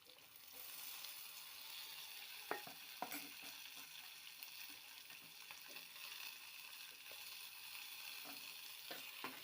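Tomatoes and onions sauté in a hot pan, hissing and sizzling steadily at low volume, with a few sharp clinks of a spoon stirring against the pan.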